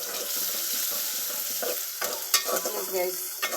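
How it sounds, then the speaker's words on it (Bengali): Onions frying in hot oil in a pan, a continuous hiss of sizzling that gives way to a few scraping stirs and light clinks, close and fairly quiet. "চুলায় আমি পাতল বসিয়ে তেল গরম করে পেঁয়াজ দিয়ে দিয়েছি"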